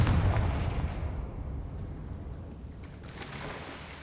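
An explosive spell blast in the video game Hogwarts Legacy, a single deep boom that rolls and fades over several seconds, with faint crackling debris afterward.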